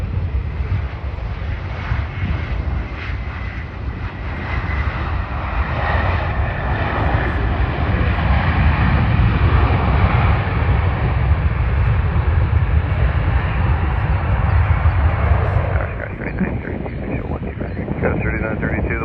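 A Delta airliner lands on runway 12 right at Minneapolis, a loud, steady broadband engine roar that holds for about fifteen seconds before easing slightly, with wind buffeting the microphone throughout.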